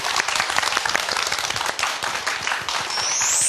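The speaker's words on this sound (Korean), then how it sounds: "뜨거운 박수로 강의 청해 듣도록 할게요" Enthusiastic audience applause greeting a yoga lecturer at a Korean talk event, close, loud and dense clapping with distinct sharp claps, swelling slightly toward the end.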